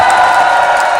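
A crowd at a street election rally for candidate Lee Jun-seok cheers and applauds in a brief, dense, loud wash of noise, heard up close.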